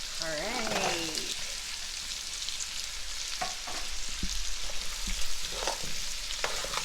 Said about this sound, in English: So now we're going to add the carrots.